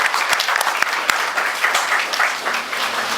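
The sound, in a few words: audience applause welcoming speaker at college seminar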